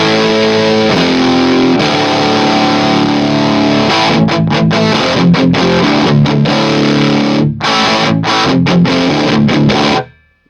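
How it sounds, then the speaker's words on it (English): Electric guitar played through a Mooer Black Secret distortion pedal in turbo mode, loud saturated chords ringing, then choppy stabbed strums with short gaps toward the end before stopping abruptly. "I'm going to go ahead and switch to the turbo now."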